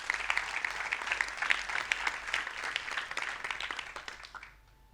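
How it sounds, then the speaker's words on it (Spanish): Church congregation applauding together during a youth service, dense steady clapping at moderate distance that fades out near the end. "¿Puede dar un aplauso a Dios por eso?"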